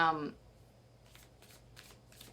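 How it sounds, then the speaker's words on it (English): Tarot cards are shuffled near the start, a brief riffle that trails into quieter soft papery rustles and flicks, with a voice heard only at the very beginning. "I start rolling dice and pulling cards"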